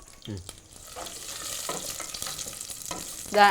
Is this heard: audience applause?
no